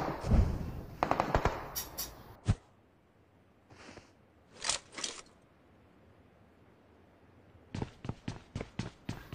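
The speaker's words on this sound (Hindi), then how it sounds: "तुम भाई गोलियां फोड़ रहे हो हमारे ऊपर" Bursts of gunfire in the video game PUBG (PlayerUnknown's Battlegrounds) crack in rapid clusters, with quiet gaps between volleys and a final string of sharp, evenly spaced shots.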